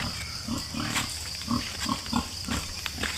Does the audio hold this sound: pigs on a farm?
yes